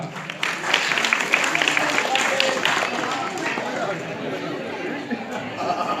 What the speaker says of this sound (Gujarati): તાળીઓ વગાડો છોકરા